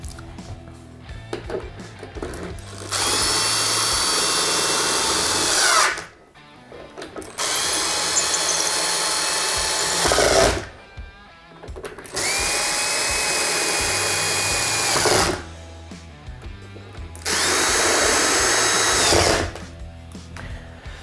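A power drill drives screws while a ceiling speaker is installed, four loud, sustained whirring bursts of a few seconds each separated by short pauses, close up with faint handling noise between.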